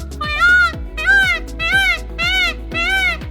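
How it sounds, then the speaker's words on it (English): Five loud, wailing cries from Indian peafowl (peacocks) at a park by a Florida bay, each call rising and falling, repeated in a steady rhythm close by. "it's the sound of a peacock"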